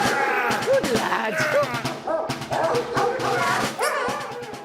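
West Yorkshire police dog being released, barking repeatedly and excitedly in rapid loud bursts with whimpering yips, close by, with some voices mixed in.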